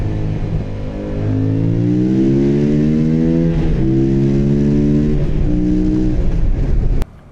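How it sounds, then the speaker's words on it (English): Loud engine revving up and down continuously, a throaty rising and falling intake induction bark from a nearby Yamaha MT-07 motorcycle, cutting off abruptly at the end. "it has a really lovely induction bark"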